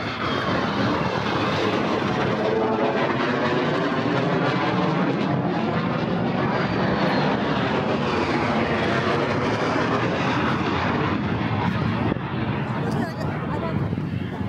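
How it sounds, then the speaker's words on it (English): F-35 fighter jets fly overhead near Port Canaveral, a loud, continuous broad roar lasting throughout, with people talking underneath. "those are F-35s."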